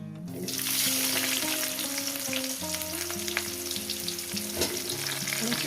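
Loud, steady sizzling of onions frying in hot oil for mutton curry close by, with occasional scraping from stirring and a tonal hum underneath.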